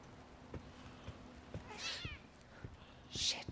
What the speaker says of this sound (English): that little cat scared me